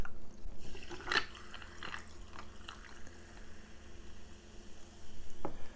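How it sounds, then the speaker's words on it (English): Seltzer is poured into homemade root beer syrup, giving a quiet, fizzing and splashing liquid sound with scattered drips and crackles over a few seconds. "And then just add seltzer."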